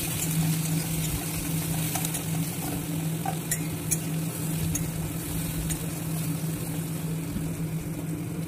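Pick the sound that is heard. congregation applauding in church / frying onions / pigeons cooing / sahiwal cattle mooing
frying onions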